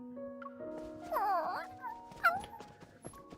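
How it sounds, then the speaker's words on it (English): A dog whimpers in the cold in the Love and Deepspace video game, a thin wavering whine rising and falling over quiet tonal background music. "I hear a faint whimper in the cold."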